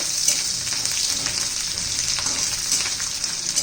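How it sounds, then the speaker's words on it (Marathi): Garlic sizzling steadily in a generous amount of hot oil for a garlic chutney, a dense, continuous crackle and hiss close up with no talking. "मस्त असे परतून घ्यायचे लसूण आहे तेल जरा थोडं जास्त घाला"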